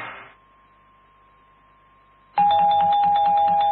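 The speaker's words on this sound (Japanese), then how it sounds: "はい、チャイム鳴りました。" A two-tone doorbell-style chime sounds on a Japanese Saturday radio show, with a steady sustained tone first and then a loud, bright chime pattern ringing out clearly at the end.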